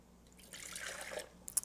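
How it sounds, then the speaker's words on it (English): Water poured into a Ninja food processor bowl for pizza dough, a short soft splash and trickle that swells and fades within about a second, faint and close, with no talk. "So first, I'm going to add my water."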